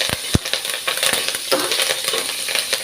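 Curry leaves dropped into a pan of browned onions while cooking a Tamil manathakkali vathal kulambu, giving a brief crackle followed by scattered stirring scrapes and light frying sizzle, close and fairly loud, with no talking.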